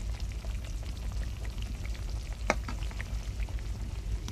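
Kulekhara greens curry bubbling in a pot over a village clay stove, a steady low simmering hiss with scattered soft pops and one sharper crackle, no voices.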